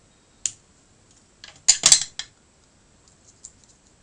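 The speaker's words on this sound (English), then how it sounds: "I could also try to use a scissors, it's probably easier than a craft knife." A few crisp snips of scissors cutting vellum paper for a birthday card, close by in a quiet room, with a quick cluster of cuts in the middle and faint clicks after.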